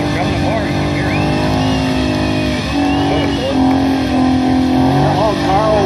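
A 2012 Ford Mustang does a rolling burnout at a Mustang and F-body meet burnout contest, its engine revving in rising and falling surges over a steady drone while an announcer talks over it.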